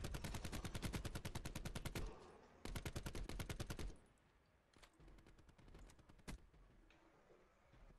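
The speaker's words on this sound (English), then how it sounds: "That submachine gun is disgusting." Rapid submachine gun bursts in Black Ops 4, two long loud strings of tightly spaced shots separated by a short gap, followed by quieter scattered gunfire and a few isolated shots in the distance.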